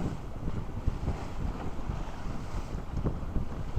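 Cold wind blowing outdoors, buffeting the microphone with a continuous low rumble and gusty roar, loud and unbroken, no voices.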